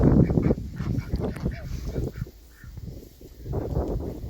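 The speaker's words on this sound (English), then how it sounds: "Lazy geese. Lazy geese." Geese honk loudly and repeatedly close by, a burst of overlapping calls at the start, then scattered honks trailing off.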